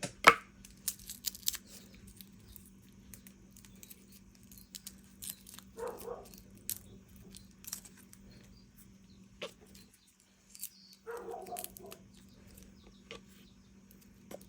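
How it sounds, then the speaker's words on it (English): A few sharp, distant dog barks come in scattered bursts over a quiet room with a steady low hum. "So the dogs, if you hear them in the background, they're barking."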